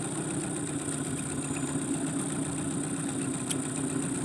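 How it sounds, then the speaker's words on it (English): A steady boat outboard motor idles high while heading upstream, at a fairly high pitch, close and constant, with an even hum and no voices. "Right now I got my idle on high because I'm going upstream."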